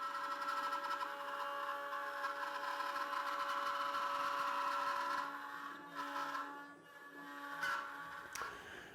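A CNC router machines a wooden slab seat for a contemporary chair at about 1/8 inch depth of cut, a steady mechanical whine with a strong hum running throughout, loud and close, easing briefly near the end.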